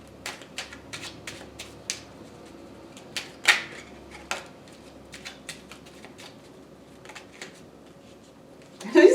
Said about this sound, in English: I'm going to shuffle and we'll lay another layer down.